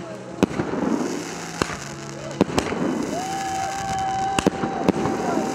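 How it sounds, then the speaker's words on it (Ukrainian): Fireworks burst in the night sky over a Carpathian mountaintop during a torch-lit ski descent marking the season's close, several sharp bangs spread across the scene above a steady crowd murmur, with a whistling rocket rising midway. "салютів у небі."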